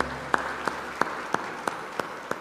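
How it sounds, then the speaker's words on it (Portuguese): A church congregation claps in slow unison, about seven sharp, evenly spaced claps over a faint room hum, moderately distant with no voices. "Aplauda a palavra de Deus"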